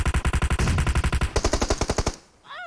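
Rapid automatic gunfire in the PUBG Mobile video game, a loud sustained burst of closely spaced shots that changes tone midway, then stops abruptly with a brief tail.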